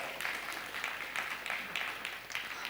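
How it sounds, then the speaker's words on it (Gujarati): At a religious katha gathering, a crowd gives a round of applause, soft and somewhat distant. The clapping is steady and continuous, with a few louder swells, and no voices break through it. "હા, ખરેખર એમની સેવાને એક વખત તાળીઓથી વધાવો"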